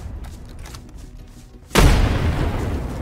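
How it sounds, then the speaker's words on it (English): A grenade explodes in DayZ, a sudden loud boom after a quiet stretch, followed by a sustained rumbling roar that stays loud until the end. "I've chucked my nade in."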